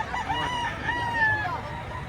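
A rooster at a chicken seller's place crows in one long, wavering call lasting nearly two seconds, close and clear over a low background murmur.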